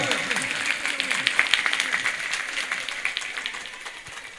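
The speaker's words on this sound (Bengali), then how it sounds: "একটু জোরে হাততালি হবে।" An audience claps at a stage prize-giving as a first prize is handed over, a dense patter of many hands that gradually fades, with a voice speaking over the opening.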